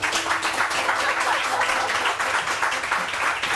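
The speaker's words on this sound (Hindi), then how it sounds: "तालियां तो बजाओ।" Audience applause during a morning TV show, a dense steady clapping that fills the whole moment at close range with no talk over it.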